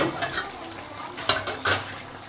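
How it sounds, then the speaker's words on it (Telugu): Chicken cauliflower curry bubbles in a pot, a soft, steady sizzle broken by a few louder scraping stirs, close and fairly quiet. "చూడండి, ఉడుకుతుంది కదా, ఒకసారి అయితే కలుపుకుందాం"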